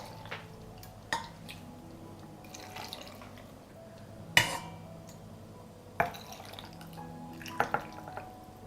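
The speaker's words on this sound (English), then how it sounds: "I pour the dressing into the jars to cover the pepper." Dressing poured into glass jars of pepper fillets being preserved for winter: quiet liquid trickling with a few sharp clinks of glass at intervals, close and soft, no voices.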